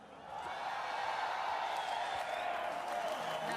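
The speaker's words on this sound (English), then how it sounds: "can I hear a big, roar from the crowd for us?" A crowd at a Dota tournament grand final lets out a sustained roar, a broad, steady wall of cheering and shouting that swells in and holds at a moderate level.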